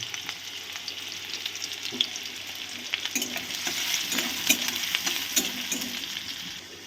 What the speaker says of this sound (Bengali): তেলটা গরম হয়ে গেছে, আমি এবার এর মধ্যে দিয়ে দেবো কেটে রাখা পেঁয়াজ, কাঁচা লঙ্কা